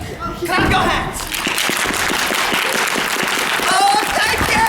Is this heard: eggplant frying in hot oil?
no